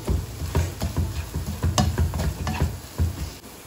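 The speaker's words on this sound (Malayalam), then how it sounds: "ഒരു പിടി പുതിനയില ഇട്ട് കൊടുക്കാം അതുപോലെ തന്നെ ഒരു പിടി മല്ലിയിലയും കൂടെ പൊടിയായി അരിഞ്ഞത് ഇട്ട് കൊടുക്കാം ഇതൊന്ന് ചെറുതായിട്ട് ചൂടാകണം" Mint leaves and finely chopped coriander leaves sizzle in a hot pan for chicken curry while being stirred, producing a continuous close fry with repeated soft scraping strokes.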